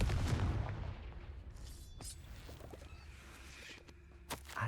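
A Confringo spell explosion in Hogwarts Legacy: a heavy blast with a rumbling low-end body opens the clip and decays into a fizzling tail, with a smaller sharp burst near the end.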